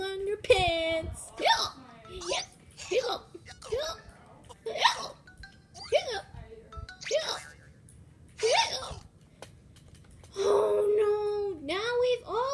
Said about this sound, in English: now we've all got the hiccups.